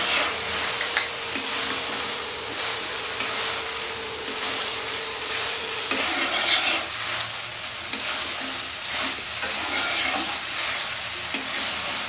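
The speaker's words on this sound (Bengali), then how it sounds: "এভাবে নাড়তে থাকবো। সিমে আছে নাড়তে থাকবো।" Chilli chicken with pakoras being stirred in a pan, a steady sizzle and frying hiss with scraping spoon strokes continuing throughout, fairly close and moderately loud, with no talking.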